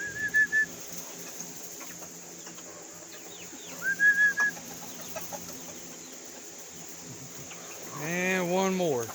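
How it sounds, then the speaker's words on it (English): Chickens clucking nearby, a few short bursts with a longer squawking call near the end, over quiet background hum and faint insect sound. "Chickens."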